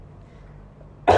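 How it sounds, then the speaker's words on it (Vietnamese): One person gives a single sharp cough near the end, loud and close, after about a second of quiet room tone. "Dạo này đến tối là tôi bị ho."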